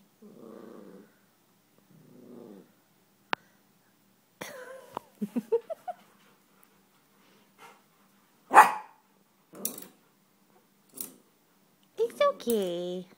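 A small Yorkshire terrier growls low and lets out a few short, sharp barks in scattered bursts at its own reflection, with a quiet voice murmuring between them.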